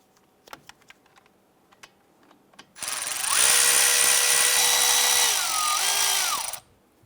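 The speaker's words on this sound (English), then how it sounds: "I want to go ahead and loosen and remove our two 14mm bolts holding our caliper to the bracket" A power tool, likely an impact gun, whirs in a steady burst for about four seconds, loosening the 14mm caliper bolts on a 2012-2017 Toyota Camry, with pitch shifting as the bolts give, after a few light clicks and taps.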